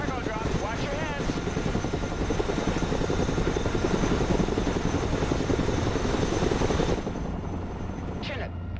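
Chinook helicopter in the real-time strategy game Broken Arrow, a steady rotor and engine drone with radio-style unit voice lines over it, the noise dropping off sharply near the end.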